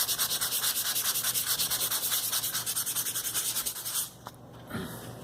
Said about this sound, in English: After it dries, I'm just gonna use this 180 grit sandpaper, just very light,